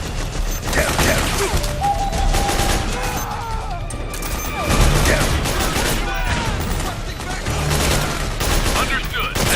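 Dense battlefield gunfire in Metal Gear Solid 4: Guns of the Patriots. Overlapping rifle and machine-gun bursts with crashes and mechanical clatter roar continuously, and shouted voices come through in places.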